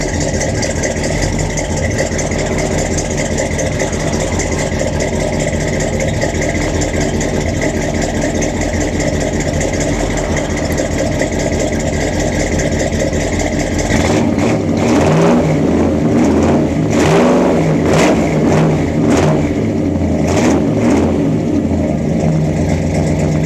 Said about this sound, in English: I'll try to put the camera down and get on the gas so you can see the exhaust come out.